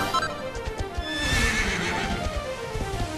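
A horse in the video game Dragon Quest XI whinnies loudly over a quick run of clip-clopping hoofbeats, close and clear with no talking.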